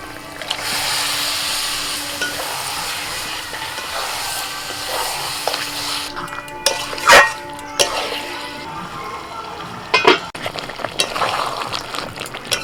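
Yogurt-marinated chicken sizzles steadily in hot oil and masala, a loud close hiss, then clatters and knocks of a spoon stirring the pot come in scattered bursts in the later half.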